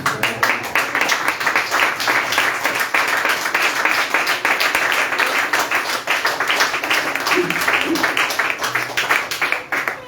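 Congregation clapping in praise to the Lord during a church sermon, a steady, rhythmic wash of many hands for about ten seconds with faint voices beneath.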